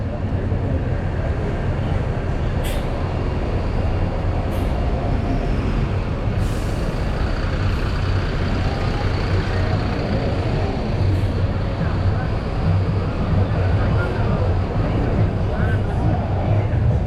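Busy street traffic outside a bus station in Santana, São Paulo: a steady, loud roadway rumble of trucks and buses with hissing air brakes now and then, and people talking in the background.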